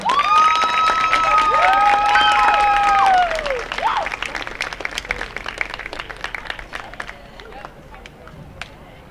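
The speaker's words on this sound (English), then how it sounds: "Let's give a huge round of applause for our cheer squad." Crowd applauding and cheering for a high school cheer squad at a football game's senior night, loud with whistles and shouts at first, then thinning to scattered claps.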